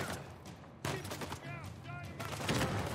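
Gunfire in the Uncharted video game rings out in a few sharp bursts mixed with a player's excited speech and game effects, fairly loud against the talk.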